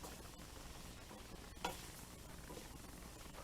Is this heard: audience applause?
no